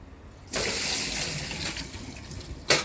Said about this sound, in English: So I'll just get rid of that water.